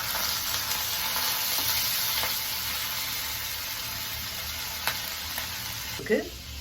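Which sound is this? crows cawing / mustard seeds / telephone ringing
mustard seeds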